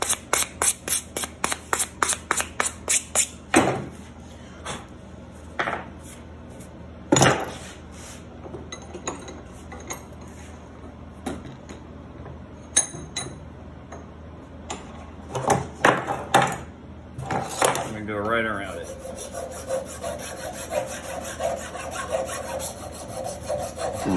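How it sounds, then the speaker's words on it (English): Hand file rasping back and forth on a metal Ryobi Expand-It attachment, converting it to fit a Stihl Kombi: rhythmic scraping strokes, fast and regular at first, then irregular with pauses, close and clear with no talk. "now we've kind of finished going around this thing with the file"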